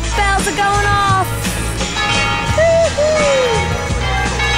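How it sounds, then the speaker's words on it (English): Bells ringing out over Venice during a gondola ride, a few clear tolling tones sounding at moderate distance over water and crowd ambience, with some voices in the background. "Bells are going off."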